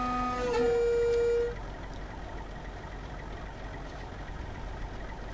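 A Class 42 Warship diesel locomotive in a train simulator game gives a short two-tone horn blast, then settles into a steady, low engine rumble as it pulls away.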